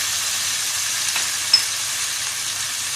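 Chilli potatoes sizzling in a pan with chilli sauce, soy sauce and vinegar, a steady dense frying hiss with a faint clink of a utensil partway through.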